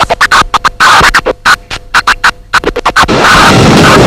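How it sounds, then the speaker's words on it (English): Turntable scratching chopped by a mixer line switch into rapid stuttering bursts, the sound repeatedly cut to silence in quick rhythmic fragments before a sustained noisy wash at the end. "Notice how the sound is being cut out with the line switch"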